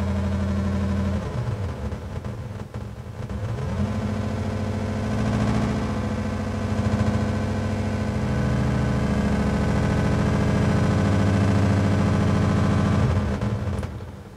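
Fenix III modular synth sequencer clocked by a very fast LFO so its steps blur into an oscillating, buzzing tone, sustained and loud for about fourteen seconds with shifting pitch bands and no talking.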